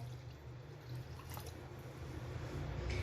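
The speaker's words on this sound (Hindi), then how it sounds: "ये अब इसमें मैं पानी डाल देने लगी हूँ, जग भर के 1 लीटर बस पानी इसमें जाएगा।" Water poured from a jug into a kadhi mixture of yogurt in a pot, a soft continuous splashing and trickling with a few faint drips over low background hum.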